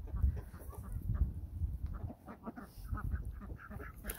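Barnyard fowl cluck and honk in quick, irregular bursts, the chicken calls mixed with goose-like honks, fairly close with no talking.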